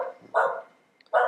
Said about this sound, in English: Stop barking at it.